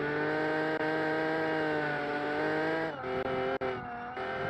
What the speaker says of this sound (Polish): teraz przynajmniej dźwięk silnika wrócił